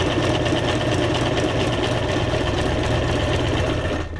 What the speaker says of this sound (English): now I'm just going to sew the lip here of each one of these in assembly line fashion